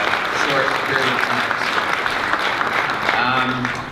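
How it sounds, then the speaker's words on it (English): Audience applause at a market update presentation on urban analytics, steady dense clapping throughout with a few voices murmuring underneath, tapering slightly at the end. "I think another round of applause for all three of them."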